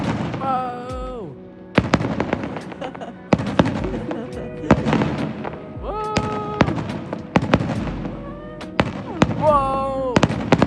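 Fireworks at a nighttime street party in Copenhagen, a string of loud cracks and booms spaced a second or two apart, with tonal whistles and crowd noise filling the gaps between bursts.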